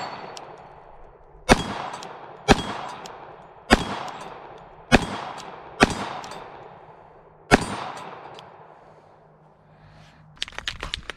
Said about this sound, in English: let's shoot some steel with this